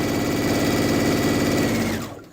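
A Brother sewing machine fitted with a bi-level foot stitches at a steady pace, giving a loud, close, continuous whirring hum with fast rhythmic needle pulses that winds down and stops at the end.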